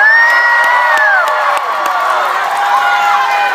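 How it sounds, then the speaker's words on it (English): Crowd at a live script-reading event at a fan convention cheering and whooping, a steady loud wash of shouts and high voices held for several seconds with no pauses. "you guys can cheer"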